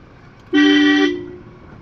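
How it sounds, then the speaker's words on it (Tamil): A Mahindra Scorpio horn gives a single loud half-second honk on a hill drive, bright and close, then fades into low road rumble. "பார்த்து திருப்பி ஹார்ன் அடி."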